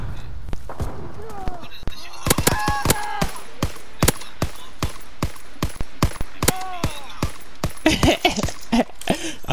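Rapid gunshots ring out in a World War II video game, coming as sharp bursts in irregular clusters with some close and loud. A player talks over parts of the firing.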